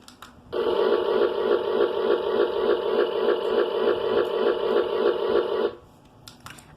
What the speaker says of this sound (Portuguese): Ah, esse som foi o som do liquidificador.